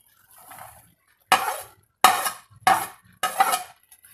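Ridge gourd peels are tossed with spices in a pan, giving four sharp, close scrapes and clinks of a spoon against metal with short pauses between them. A softer rustle comes first, and no one speaks.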